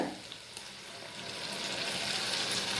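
Chopped onion and blended tomato sautéing in a pan for bitter gourd puli kuzhambu, a continuous soft sizzle that grows slightly louder and denser, with faint stirring.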